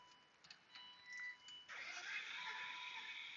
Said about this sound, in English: Let me go and crank the car.